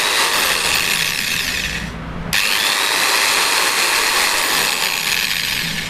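A budget electric drill machine for home use runs steadily at high speed, a loud continuous whine with a brief drop around two seconds before it spins back up, close by and with no talk.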